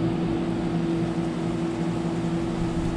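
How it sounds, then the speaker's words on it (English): A camper air conditioner runs with a steady, droning hum and a low tonal whir, constant and close throughout with no talking. "You have to excuse the noise in the background, that's the camper AC."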